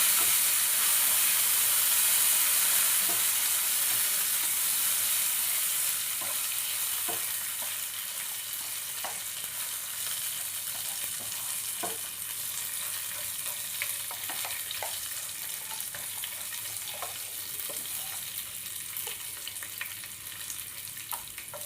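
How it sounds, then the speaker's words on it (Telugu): Cumin seeds, dried red chillies and a little coriander sizzle in hot oil as a tempering for tomato chutney, a steady frying hiss dotted with sharp pops and crackles, loudest at first and then settling to an even sizzle. "పోపు దినుసులు అనేవి వేయించుకోవాలి."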